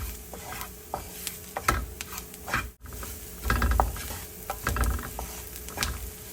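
Spice masala with turmeric sautés in a pan for an ivy gourd (tindora) fry, a soft continuous sizzle broken by repeated scraping and knocking of a spatula stirring the pan, close up and without talk.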